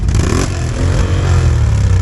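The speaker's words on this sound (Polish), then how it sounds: "Tutaj też kanam 1000 z wyciągniętym wkładem. Daj mu gazu!" Can-Am 1000 quad with the exhaust baffle removed, its engine revving loud and close in a continuous raspy roar with mechanical clatter.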